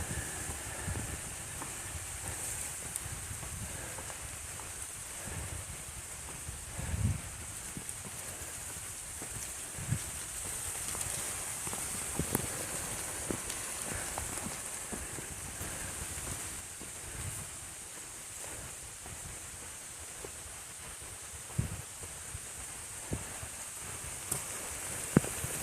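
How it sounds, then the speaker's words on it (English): Rain falls steadily on a forested stretch of the Appalachian Trail, a continuous soft hiss with scattered heavier drips and patters that come through close by at irregular moments. "now I think the rain's here in earnest."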